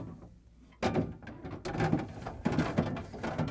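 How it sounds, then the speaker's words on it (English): A plastic refrigerator crisper drawer on a Frigidaire/Electrolux fridge is slid onto its rails, producing a sudden clunk followed by several scraping, knocking movements close to the microphone. "Next, I'm going to install the upper crisper. Slide it on the rails"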